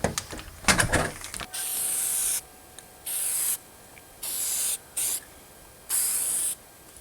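White primer sprayed from an aerosol can onto a sailboat compass collar outdoors, five separate hissing bursts of varying length with brief quiet gaps, after some clattering handling at the start.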